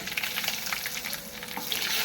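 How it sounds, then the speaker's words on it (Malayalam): Dried chilies frying in hot oil with already-popped mustard seeds, a soft but busy close crackle of tiny pops and spits sustained throughout. "കടുക് പൊട്ടി തീരാറായി ഇനി നമുക്ക് മുളക് കൊടുക്കാം"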